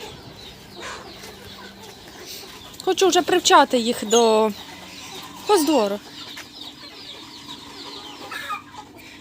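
Young roosters cluck and squawk in a few loud, close bursts, with a person talking quietly before and between them.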